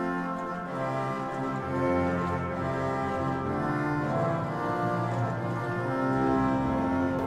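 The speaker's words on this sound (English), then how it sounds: "which is the trumpet 8 foot." Bright, brassy reed tone of the trumpet 8-foot stop on the Hinsz organ in the Bovenkerk, Kampen, holding sustained chords that shift slowly, full and steady, with no speech.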